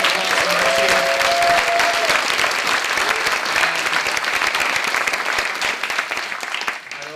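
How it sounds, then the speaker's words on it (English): A conference audience at Cloud Native Day Montreal gives a big round of applause, sustained and loud throughout before tapering slightly at the end, with faint speech at the start. "So, big round of applause for Archie."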